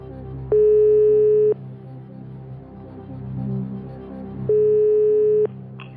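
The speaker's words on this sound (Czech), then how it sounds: "Dobře, zavoláme slečně Petře" A telephone ringing tone sounds twice, each a loud steady one-second tone separated by a long pause, as a game-show contestant's friend is called on Chcete být milionářem.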